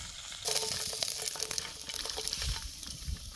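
Green chillies fry in hot oil for a tangy Kolhapuri-style masala curd chilli, a steady, close sizzle that flares up suddenly and then crackles on evenly with small pops and spits throughout.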